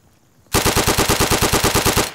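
Rapid automatic gunfire from a World War II weapon in the shooter game Day of Infamy, a sustained loud burst of evenly spaced shots starting abruptly after a brief quiet moment and continuing steadily to the end.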